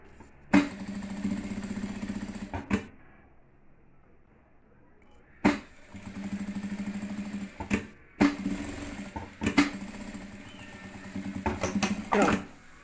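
A sewing machine stitches a patchwork and denim bag in bursts, each run of rapid mechanical whirring starting and stopping sharply, with quiet pauses between runs, close and fairly loud.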